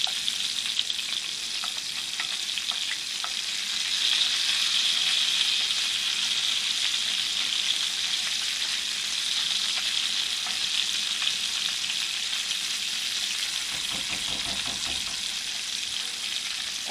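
About a quarter cup of vegetable oil or shortening heating over medium in a pan, a steady, dense, close sizzle that continues unbroken with no talking.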